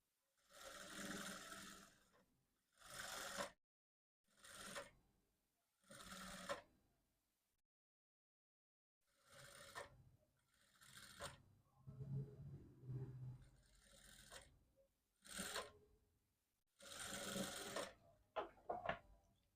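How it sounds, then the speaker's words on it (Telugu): A sewing machine stitches thread piping around a round shape in bursts of close, rapid mechanical whirring, stopping and restarting with short silent gaps between runs. "ఇలా చివరి వరకు కుట్టు వేసేసుకుందాం."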